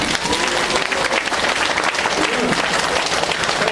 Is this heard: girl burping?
no